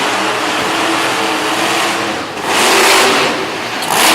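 The Avenger monster truck's big engine roars loudly at a monster truck show in Little Valley, New York, holding a heavy broadband growl that swells into a harder rev burst midway and again at the end.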